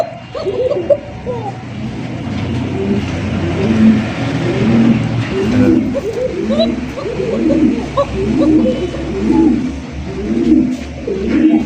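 Many pigeons of fancy breeds, including Koka and Sirazi, coo in a steady overlapping chorus close by, with low rounded calls repeating throughout; a faint engine rumble runs underneath.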